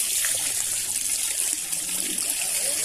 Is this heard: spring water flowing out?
yes